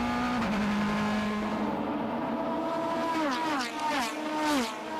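Onboard a Ligier GS49 sports racer with a roughly 250-horsepower 2-litre Honda R-Type engine during a VdeV race at Jarama in 2007: a loud, close engine note holds steady, then rises and falls through several quick shifts.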